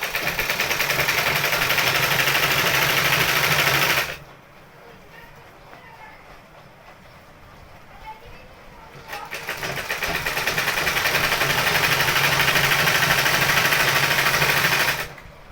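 A sewing machine stitches a palazzo, running in a steady loud close whir that stops for a few seconds, leaving quieter room sound, then starts again and runs steadily before stopping near the end.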